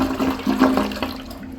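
A Kohler Reach one-piece toilet flushes with a weak bowel rinse from downward-pointing rim jets, water rushing briefly into the bowl and then tapering off, heard close up with no talking.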